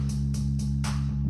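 In music production, a bass line plays as a sustained low droning synth tone, with rhythmic bright noisy hits landing about every quarter second over it, steady and fairly loud with no talking.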